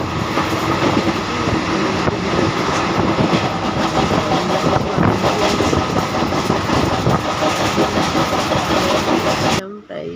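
Passenger train on the way to Tarapith running near Bardhaman Junction, heard from inside the carriage as a steady loud rumble and rattle, with voices chatting over it.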